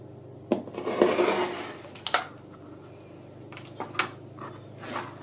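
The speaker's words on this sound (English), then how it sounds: "I'm going to do a 1/4 inch here and a 1/4 inch here" A ruler trimmer cuts quilt fabric pieces with a few soft rubbing and sliding strokes across the fabric, plus light taps on the work surface, all close and quiet.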